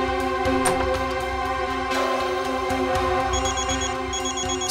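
A phone ringtone plays steadily, a bright repeating electronic melody over a constant hum, loud and close with no talking.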